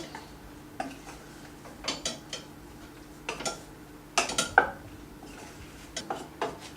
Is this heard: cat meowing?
no